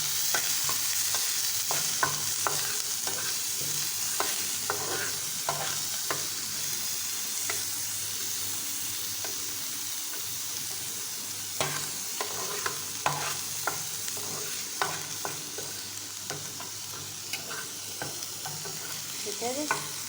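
Chopped onions stir-fry in hot oil for a tomato chutney, a continuous bright sizzle with repeated scraping and clinking strokes of a spoon against the pan throughout, no voices.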